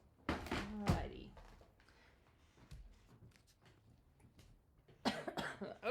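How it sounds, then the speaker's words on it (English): A person coughs in two loud bursts close by, a dense fit at the start and another near the end, with quiet movement and thumps in between. "that's the first time I've really coughed that much. Excuse my cough."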